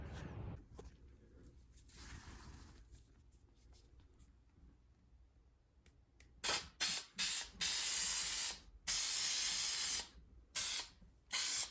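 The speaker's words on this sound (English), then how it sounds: "we're gonna spray some glue on here" Loud bursts of aerosol glue spray onto a custom trunk liner for a Foxbody Mustang, several long hisses and a few short ones with brief pauses between, after a quieter stretch of faint handling noise.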